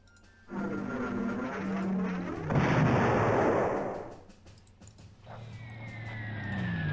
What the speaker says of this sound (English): Let's do our bombings that we normally do.